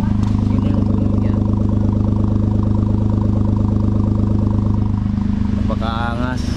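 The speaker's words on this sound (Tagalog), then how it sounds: "Napakaangas ng andar ng ating sasakyan." A Riez concept wagon's engine idles close by with a steady, heavy, loud throb and drone that runs without a break, while someone speaks over it.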